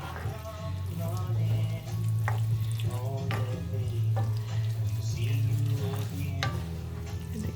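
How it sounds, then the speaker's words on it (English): Bacon, cheese and tater tot casserole ingredients being stirred together in a bowl, with a steady scraping and squishing and occasional light clinks over a constant low hum, no talk. "So you just go ahead and mix that up."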